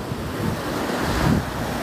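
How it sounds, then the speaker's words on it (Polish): Surf rolls onto the California shore while wind buffets the microphone, a continuous loud wash of breaking waves with gusty low rumble and no voices. "to żeśmy sobie z Kacperkiem nad morze skoczyli."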